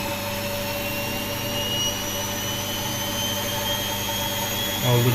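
A washing machine motor spins up toward 800 rpm, a steady mechanical hum with a high whine, running continuously and fairly loud, with a brief low thump near the end.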